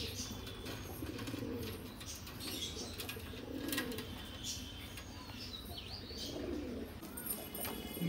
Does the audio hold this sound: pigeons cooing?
yes